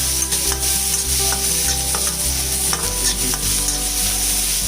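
Whole spices such as cardamom and cinnamon with cumin frying lightly in a pan for egg curry masala, a loud continuous sizzle with a low steady hum and faint scraping, no voices.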